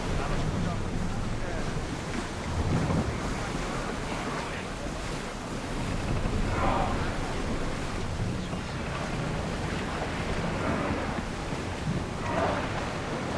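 A sailing ship moves across open sea in Assassin's Creed Odyssey, with a continuous roar of wind and surging waves that rises and falls in slow swells and stays loud and close throughout.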